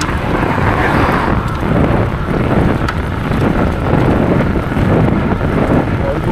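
Wind hisses and roars steadily across the microphone while riding a bicycle, a dense, unbroken rush of noise with rolling rumble underneath and faint voices buried in it.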